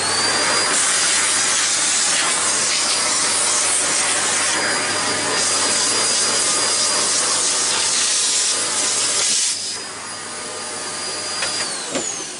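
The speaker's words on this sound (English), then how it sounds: "Oh, get that Hoover off quickly." A Hoover vacuum cleaner runs loud and steady at close range while a PC is being cleaned, its broad hissing roar with a thin whine holding until it drops sharply and continues more faintly near the end.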